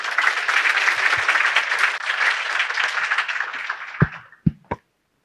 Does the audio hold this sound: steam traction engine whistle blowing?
no